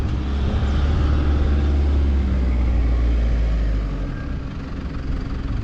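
A 4WD vehicle bogged in soft sand on a beach runs its engine in a loud, low continuous rumble while reversing, easing off slightly toward the end.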